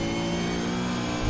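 A supercar engine revs hard in a loud, continuous drone with a steady low growl, sustained for the whole moment without pause.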